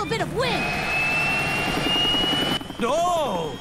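Cartoon helicopter engine starting up, a rising mechanical whine and steady rotor roar heard up close, with cartoon voices shouting over it at the start and end.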